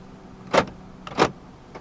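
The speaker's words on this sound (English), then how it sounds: "this car does come with power folding mirrors" The power folding side mirrors on a 2014 Honda City 1.5 E whir in two short, quiet motor bursts about half a second apart, heard alone inside the car.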